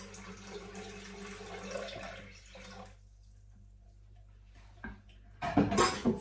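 Cherry juice is poured into a Thermomix while making a sour cherry, orange and amaretto jelly, a trickling liquid pour lasting a few seconds, then a quiet pause and a louder splashing clatter at the end.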